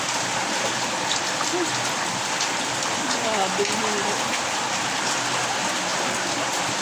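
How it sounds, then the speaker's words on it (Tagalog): Heavy typhoon rain pours steadily in a dense, continuous hiss, close and loud, while a person speaks briefly beneath it. "Ito na yung ulan."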